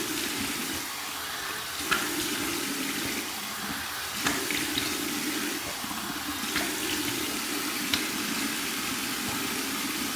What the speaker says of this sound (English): Okay, nice and cold, cold water rinse.